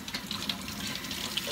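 Hot water runs steadily from a kitchen tap into a sink for washing collard greens, a continuous even gush with no voices over it.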